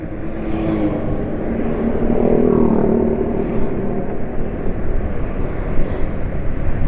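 A Yamaha NMAX scooter's engine hums loudly and rises as it speeds up, with steady wind rush throughout.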